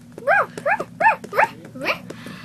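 An indoor dog kept behind a gate barks repeatedly, four sharp, close, loud barks in quick succession followed by a weaker fifth, with no one talking.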